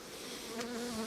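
Honeybees buzz at an open hive while building comb, a dense, close humming drone with individual bees droning past.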